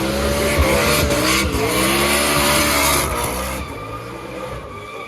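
A drift race car skids and drifts at the Goodwood Festival of Speed with loud, sustained engine roar and tire squeal, shifting in pitch as it slides, close by.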